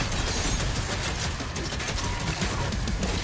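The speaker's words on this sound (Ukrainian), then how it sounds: "Хто по мені стріляє весь час?" Dense, continuous gunfire in the video game Doom The Dark Ages, a loud steady barrage of rapid shots filling the whole moment with no pauses.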